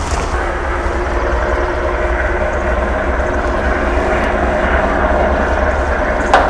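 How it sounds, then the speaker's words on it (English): Loud, constant low engine roar from dump trucks filling the whole stretch, steady and close with no pauses. "Those dump trucks sound like engines"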